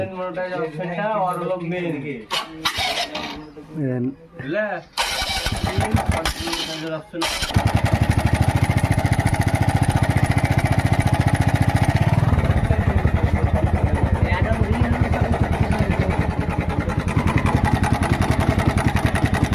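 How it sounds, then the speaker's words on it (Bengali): A new-model Victor 3-valve motorcycle engine with a noisy timing chain and a whining note kicks into a loud, steady idle partway through and runs on. Someone talks over the rough first stretch. "এটাতে টাইমিং চেনের আওয়াজ, টাইমিং চেন থেকে আওয়াজ করছে, আর একটা সেল থেকে কুঁ করে আওয়াজ করছে।"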